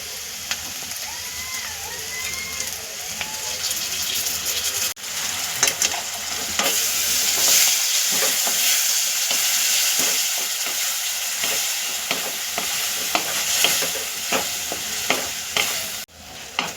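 Spice masala with curd stirred and frying in a pan for green tomato bhaji, a steady loud sizzle with scraping spoon strokes throughout, close up with no talking.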